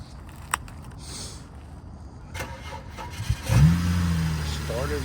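A 2009 BMW engine cranks and catches at a police vehicle auction, a short starter whir then a steady idle rising close by, after a quiet stretch with scattered background knocks.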